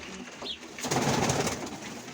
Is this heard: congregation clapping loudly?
no